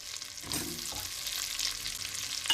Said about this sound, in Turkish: Burada karıştırarak havucu ve soğanı renk aldırmadan öldürüyoruz.